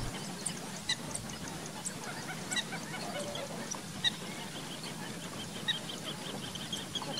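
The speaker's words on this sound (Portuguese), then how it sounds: "E por último, essa briga do frango d'água comum." Harsh, squawking calls of common moorhens fighting at a lagoon burst out repeatedly in short bursts over a constant outdoor background, moderately distant.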